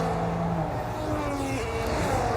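Ferrari and Mercedes race cars in a racing video game, their engines whining loudly as they rise and shift pitch while one overtakes the other into a turn.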